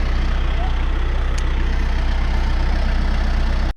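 A Branson 5520 turbocharged tractor engine idles steadily nearby in an orchard, a constant low throbbing rumble with no change in pace, cutting off abruptly at the end.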